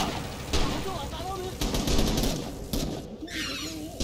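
Battle noise in the video game Rising Storm: repeated gunshots and mortar blasts rumble and crack in quick succession at mid distance, dense and continuous, with a voice faintly present under the fire.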